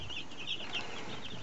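Young chicks peep together in a shrill, continuous chorus of overlapping high calls, close and fairly loud, with no talking.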